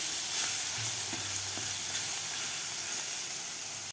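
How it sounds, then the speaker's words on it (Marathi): Amla (Indian gooseberry) sautéing in a hot oil tempering for a Marathi amla varan: a steady, continuous sizzle and hiss, close and even, with no talk over it. "याला 1 मिनिटभर आपल्याला परतून घ्यायचा आहे आवळा घातल्यानंतर"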